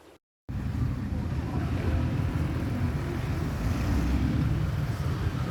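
Wind buffets a microphone outdoors at a Bangkok street food spot, a loud steady low roar that runs almost the whole time after a brief dropout at the start.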